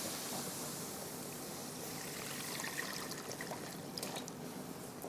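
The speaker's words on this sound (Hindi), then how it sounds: "आहिस्ता आहिस्ता हमने इसमें ऐड कर देना है 3 कप दूध" Milk poured slowly into a cooking pot, a steady close liquid rush and trickle running continuously without a break, no talking.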